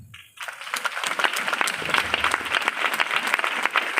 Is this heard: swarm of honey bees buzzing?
no